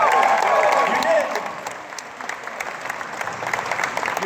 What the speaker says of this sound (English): quick round of applause in here